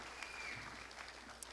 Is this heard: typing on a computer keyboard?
no